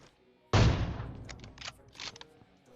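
A Kar98 sniper rifle fires in PUBG Mobile, one sharp loud crack with a booming tail, followed by a few fainter distant shot-like bursts.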